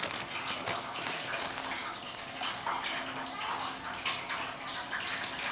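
Water gushing and splashing steadily onto a large carpet being washed with powdered detergent, a continuous rushing, irregular pour with no clear talk over it.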